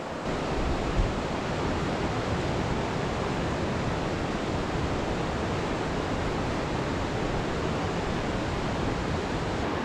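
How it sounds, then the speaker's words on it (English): Spring flood meltwater from melted mountain snow rushes through a national park in northern Sweden in midsummer, a steady, loud, broadband roar of fast-moving water that holds constant for the whole stretch with no voices. "It's all the water coming out of the mountains from this melted snow, and it's an incredible amount of water. It's just rushing through here."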